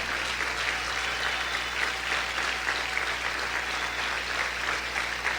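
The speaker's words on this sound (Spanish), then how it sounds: "Aplaude fuerte al Señor." A church congregation applauding together, a steady dense wash of many hands clapping throughout, fairly loud and sustained with no clear talk.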